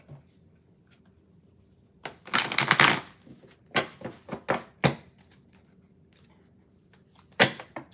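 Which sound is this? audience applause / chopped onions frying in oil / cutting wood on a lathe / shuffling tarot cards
shuffling tarot cards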